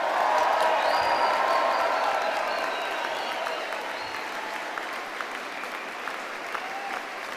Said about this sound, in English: we need one last big round of applause for everybody who's graduated